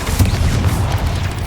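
A burst of the Incendio fire spell in the Hogwarts Legacy video game, a steady loud roaring whoosh with low rumbling booms running the full length, close and continuous.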